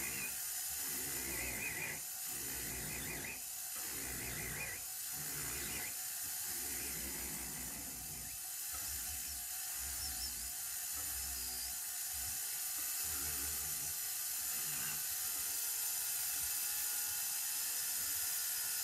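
A rotary radius tool carves a flat surface of a wax bangle, a buzzing, ratcheting whir that comes in repeated short bursts as the tool is kept moving, over a steady high hiss.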